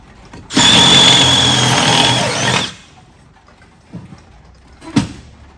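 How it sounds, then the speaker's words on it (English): A bench grinder grinds a metal fitting for a dry sump oil system, a loud steady whine with a rough grinding edge lasting about two seconds, followed by a few faint knocks and clatters. "I'll take this over to the grinder and just grind it at just that slight angle right there"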